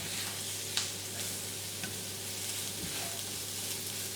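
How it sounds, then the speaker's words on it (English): Flour toasting in a non-stick pan gives a steady, gentle sizzle and frying hiss with a few faint stirring scrapes, no voices over it. "want to cook this a little bit so the flour is a little bit toasted"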